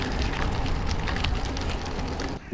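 Bicycle tyres roll over a gravel path beside the M8 motorway, a steady close crunching rasp that continues unbroken for a few seconds with no talk.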